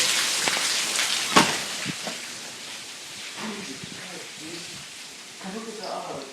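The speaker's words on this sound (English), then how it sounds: "It is raining so hard right now." Heavy rain pours steadily in Las Vegas, a dense broadband hiss with occasional nearby splashes and drips, while people talk over it.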